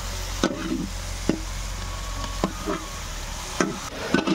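Spice masala is cooked in a pan with water and chopped tomato. A low bubbling sizzle runs under a few sharp spoon scrapes and taps at irregular intervals.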